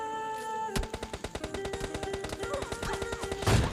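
Rapid gunfire from a PUBG Lite match, a fast run of sharp, evenly spaced shots close up, with a heavier blast near the end, the kind of report an AWM sniper rifle gives.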